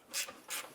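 Ratchet turning a 10mm battery brace bolt on a 2001-2005 Honda Civic: two short raspy clicking bursts, close and fairly quiet, with no talk.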